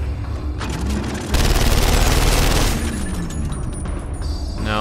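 Dense, loud automatic gunfire from the video game Gears of War 2 rattles nonstop in a sustained volley, swelling midway, with no voices over it.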